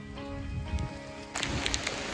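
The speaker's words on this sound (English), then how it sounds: "It is raining like crazy." Rain pours down on a hillside trail along the Neral to Anandwadi route toward Peb fort, a quiet, steady hiss with a few louder patters partway through.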